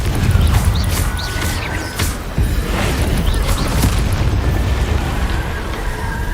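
A Confringo fire spell detonates in the Hogwarts Legacy video game, a loud, dense boom with heavy low rumble that swells and keeps roaring steadily for several seconds without a clear pause.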